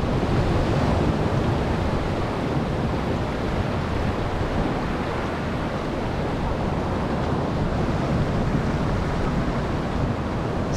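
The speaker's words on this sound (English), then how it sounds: "The water washing over my feet right here as I watch that sunset." Ocean surf on an Oahu shore at sunset, waves washing over bare feet, heard as steady broadband wash with wind noise on the microphone, continuous and close for the whole stretch with no talking.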